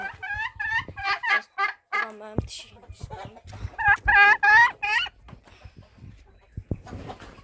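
Farmyard chickens cluck and call close by in bursts of harmonic squawks, with goose-like honks mixed in, while someone speaks briefly between the calls.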